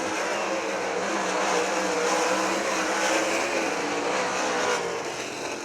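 Great Lakes Super Sprints sprint cars roaring past at the finish of a heat race at Waynesfield Raceway Park, a dense, loud, sustained engine howl that swells and eases slightly.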